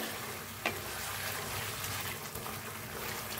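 Chicken and ground masala fry in a pan with a soft, steady sizzle and faint stirring, plus one brief utensil clack early on.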